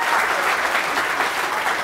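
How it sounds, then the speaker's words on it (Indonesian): Steady, continuous audience applause for Didi Kempot, dense clapping sustained at an even loudness throughout without a break. "Tepuk tangan buat Mas Didi."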